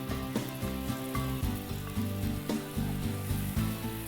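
Chicken marinated in yogurt, lemon juice and salt sizzles steadily in a pan with onions for an Indo-Chinese dish; the frying hiss is close and continuous, with faint stirring and no talking.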